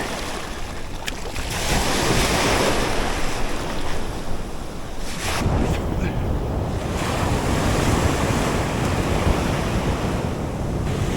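Loud, constant roar of pounding ocean surf crashing nearby while fishing, with strong wind buffeting the microphone throughout, no speech.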